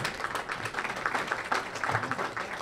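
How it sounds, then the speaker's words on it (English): Audience applause at a talk on the history of RCA Bloomington, a steady wash of many hands clapping at moderate distance, sustained throughout with faint voices mixed in. "he gets applause"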